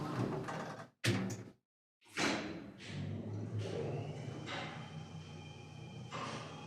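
A heavy door slides open with a thud and a drawn-out rumbling scrape in a dim underground prison setting, after a short silent pause; no voices.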